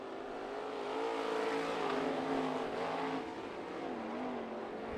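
Sprint cars race around the dirt oval at Bubba Raceway Park, a loud, continuous engine roar with rising and falling revs as the field runs close by.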